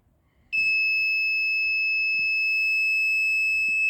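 A loud, steady electronic alarm tone from a health monitoring system starts abruptly and holds continuously, with faint rustling underneath.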